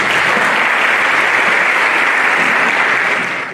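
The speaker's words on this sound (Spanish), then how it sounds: "Les pido, por favor, un fuerte aplauso" A loud, dense burst of audience applause fills the hall at a medical gathering on early-onset familial Alzheimer's, continuous and even before easing slightly at the very end.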